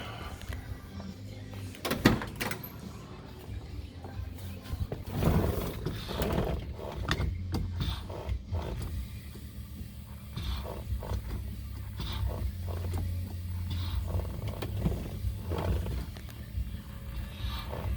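An electric vacuum pump fitted for power brakes on a car, a Leeds Bandit unit, runs as the brake pedal is worked: a steady low buzzing hum close by, with a few louder mechanical clunks and thumps from the pedal.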